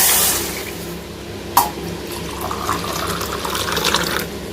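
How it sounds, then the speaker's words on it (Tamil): Water pours into a pot for rice-flour roti, a steady close splashing and trickling stream with a sharp clatter near the start, no talk. "தண்ணி ஊற்றிக்கணும்."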